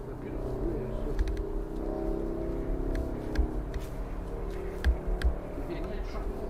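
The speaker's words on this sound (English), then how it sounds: "If you hear traffic in the background" Steady low rumble of road traffic in the background, with a few faint thumps and passing-vehicle swells.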